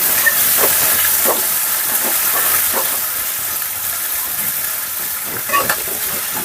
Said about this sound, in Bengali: এবার আলুগুলোকে একটু একটু ভেজে নিতে হবে